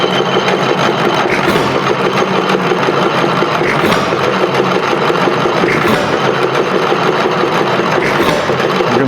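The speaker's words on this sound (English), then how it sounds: "Adjust that fuel so you get it just perfect. It likes to run fairly rich" A Macleods (Nelson Brothers) Model TA 1 3/4 HP stationary engine runs steadily and fairly rich, giving a continuous close mechanical chugging with faint periodic swells and no talk.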